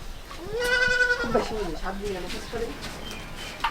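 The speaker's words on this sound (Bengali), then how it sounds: "এটা ছাগল আছে।" A goat in a Bangladeshi village yard lets out a loud, wavering bleat close by, followed by quieter calls and faint background voices and household sounds.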